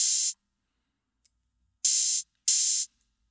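Three crisp open hi-hat hits from a Roland TR-808 drum machine, short hissy bursts on steps 1 and 13 at 95 BPM, one alone then two in quick succession after a pause, with silence between.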